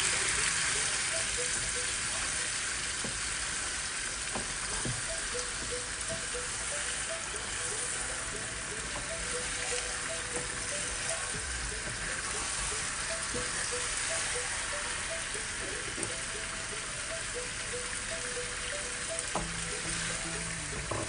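Chicken curry (murgh do pyaza) sizzles in a pan just after about half a cup of water is added, making a continuous hiss and bubbling with faint stirring clinks throughout, steady and moderately quiet with no voices.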